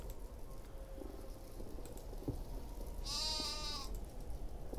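A sheep in the survival game Niffelheim gives one clear bleat lasting under a second, standing out over a steady bed of in-game ambient noise.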